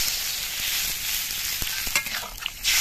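Hog plums stirred in a pan with salt and turmeric, a steady close sizzle of frying with a few soft scraping strokes, no voices.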